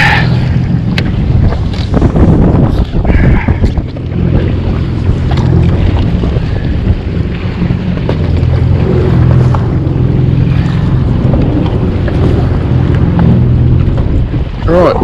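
A jet ski used for wash fishing idles and churns on choppy water, its engine rumble steady and close, mixed with heavy wind buffeting the microphone and splashing waves throughout.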